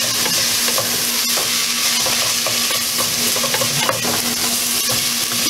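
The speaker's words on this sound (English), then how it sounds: "Now we're going to add our celery and carrot. That's all cut up. Give that a stir." Chopped celery and carrot sizzling and being stirred in a pan for meatballs in marinara, a loud, steady frying hiss close up with occasional scrapes of the stirring utensil and no talk.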